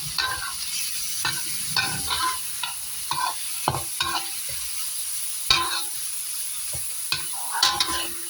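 Dried fish is stir-fried in a pan for a basil stir-fry, with close, repeated scraping strokes of a spatula over a soft, steady sizzle and no talking.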